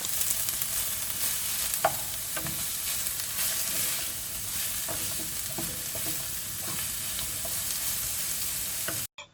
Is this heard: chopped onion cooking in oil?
yes